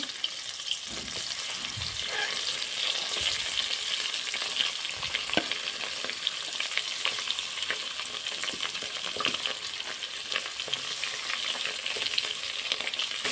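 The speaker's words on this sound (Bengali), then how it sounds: "মাছগুলোকে এক এক পিস করে দিয়ে দেবো তেলের মধ্যে। মাছ ভেজে নেব।" Pieces of koi fish frying in hot soybean oil with spices, a continuous bright sizzle and crackle, close and steady, with occasional stirring scrapes.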